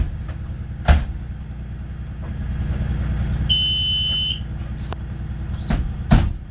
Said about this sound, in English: The buzzer went off, it's working properly.